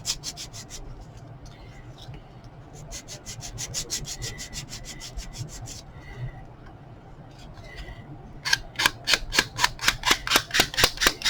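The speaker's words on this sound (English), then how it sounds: "you can really kind of grunge this up with a nail file or some sandpaper." Sandable craft paper being roughened with a nail file or sandpaper, giving repeated dry rasping strokes in bursts, with a faster run of sharp scraping strokes near the end.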